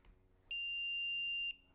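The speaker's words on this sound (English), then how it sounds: "You're going to hear one beep." A smoke alarm on a range hood fire-suppression unit gives one sharp, piercing beep lasting about a second, clear and loud against a quiet room.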